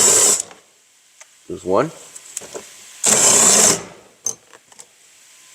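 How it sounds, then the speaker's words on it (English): An impact wrench with a 10mm socket spins a bolt out of a Nissan door panel in two loud, buzzing bursts of under a second each, with a voice speaking briefly between them and a few light clicks after. "Now grab yourself a 10mm socket and a ratchet. I'm using an impact, so it'll be faster."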